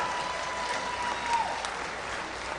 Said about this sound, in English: So y'all give yourself a round of applause for putting this on tonight.